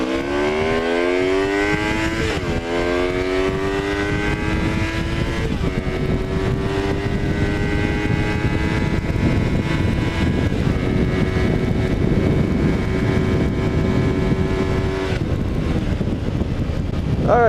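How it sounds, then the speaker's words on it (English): A motorcycle accelerates hard through first gear, its engine note climbing steadily in pitch, then shifting up and pulling again, loud and close with strong wind noise across the microphone. "So let's see how fast this bike will do in first gear."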